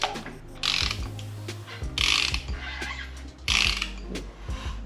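Ratcheting, clicking mechanical sounds from a timing belt tensioner being rotated on a Honda B-series engine, coming in three close bursts of clicks and whirring with quieter pauses between them.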